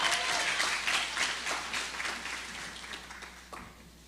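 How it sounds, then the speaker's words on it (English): A school freshmen orientation audience applauds, steady mid-level clapping that fades gradually toward the end, with no talk over it. "Give her a round of applause."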